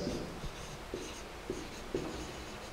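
Quiet writing strokes on a board, a soft scratching with small taps about every half second, heard alone in a faint room.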